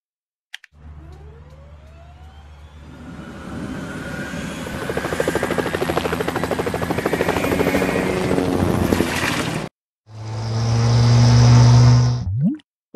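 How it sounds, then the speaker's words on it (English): A firefighting helicopter from a kids' vehicle learning game whirs loudly, its rotor and engine building up then holding steady with a clicking blade chop, followed by a short second burst of engine roar. "Firefighting helicopter."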